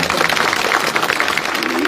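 A crowd applauding at a public speaking programme, dense continuous clapping filling the short moment, loud and close.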